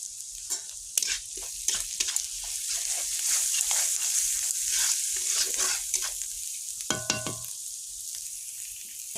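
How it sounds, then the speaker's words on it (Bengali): Rice sautéed in a pan with ginger paste, turmeric and chili powder, a loud close sizzle under repeated spatula scrapes and clinks against the pan, with no one speaking. "এবারে হলুদ আর লঙ্কার গুঁড়ো দিয়ে দিব এটাকেও কষিয়ে নেব ভালো করে"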